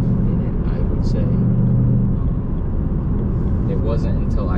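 A 2023 Mustang GT Premium with a manual gearbox rumbles with a deep, steady exhaust drone while cruising, its low growl rising briefly and settling, captured up close with a voice murmuring over it.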